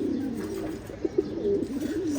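A Khaki pigeon, a Surma Khaki male, gives low, close cooing with a few soft rhythmic pulses in a quiet setting.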